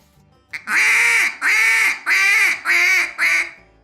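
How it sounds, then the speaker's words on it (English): Five loud, drawn-out duck calls in a steady pleading cadence, each a nasal quack stretched and held, close and clear with short gaps between. "that gives a little bit of the begging sound"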